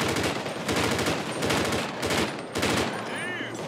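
Heavy automatic gunfire in GTA 5 during an armored car security patrol shootout, loud rapid bursts hammering continuously with short pauses between volleys.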